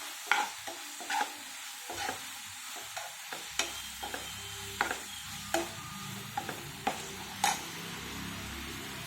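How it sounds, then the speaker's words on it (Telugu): Green beans frying in a pan for a beans curry, a soft continuous sizzle broken by repeated sharp scrapes and clinks of a spatula stirring, close and fairly quiet. "ఇవి బాగా ఫ్రై అవ్వాలండి."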